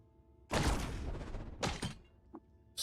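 A linear cannon fires point blank in the Caves of Qud video game, a loud, sharp blast with a lingering crash, followed by a couple of shorter impacts and a faint blip.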